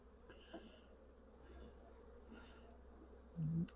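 Honey bees at a small backyard apiary give off a faint, steady hum, with a few louder buzzes as single bees pass near, and a short closer buzz at the end.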